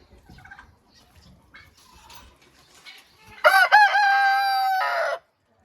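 Quiet clucking and scratching sounds from Faverolles chickens lead into a loud, close rooster crow that rises, holds and cuts off abruptly.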